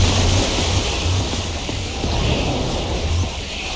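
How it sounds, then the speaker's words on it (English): Water gushes out after a lever is pulled in Minecraft Story Mode, a loud continuous rushing and splashing wash that stays steady throughout, with no voices. "I don't know how much water this thing is going to kick out"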